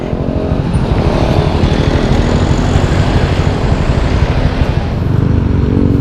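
Yamaha motorcycle engine screaming at high revs near 9,500 rpm, a loud, steady, dense mechanical roar that holds without a break throughout.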